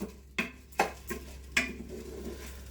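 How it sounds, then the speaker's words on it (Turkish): Rice being toasted and stirred in a Kumtel pressure cooker pot, a handful of sharp metallic spoon scrapes and clinks against the pot, spaced irregularly, close and fairly quiet with a faint low hum underneath. "Hadi pirinci kavur bakalım görelim."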